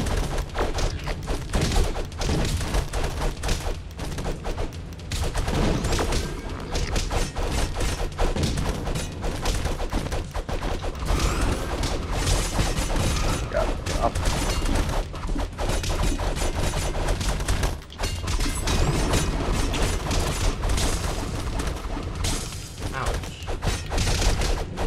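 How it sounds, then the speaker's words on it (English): Bombs being thrown and exploding in the side-scrolling brawler Castle Crashers, a dense, continuous barrage of booming blasts and rapid gunfire-like pops over game music, loud throughout with no clear pauses. "I just like throwing bombs left and right."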